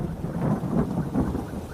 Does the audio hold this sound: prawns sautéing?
no